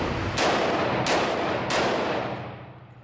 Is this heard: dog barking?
no